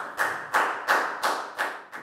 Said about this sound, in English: And big round of applause for everyone